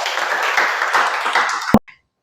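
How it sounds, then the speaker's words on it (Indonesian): A lecture-hall audience applauds a presenter after a research discussion, with dense, steady clapping throughout that ends in one sharp final clap and then silence. "Berikan tepuk tangan untuk De Amel."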